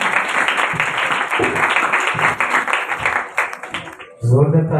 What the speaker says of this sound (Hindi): जोरदार तालियां इस खूबसूरत कलाम के लिए, खुदा की तारीफ के लिए